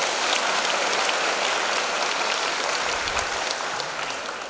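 An audience at a Vietnamese Buddhist dharma talk breaks into dense, sustained clapping, loud and even throughout before tapering slightly at the end.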